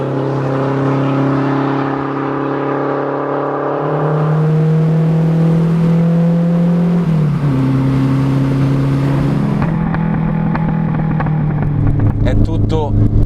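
A loud Renault 5 Turbo 2 engine drones and shifts pitch as it drives, rising and dropping through gears, heard from inside the car.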